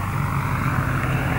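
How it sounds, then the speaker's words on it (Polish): A propeller aircraft makes a low pass over an airfield during a precision-flying championship, a steady droning engine hum held at moderate level for the whole stretch, with no talk. "W tej chwili w niskim przelocie ten wspaniały płatowiec"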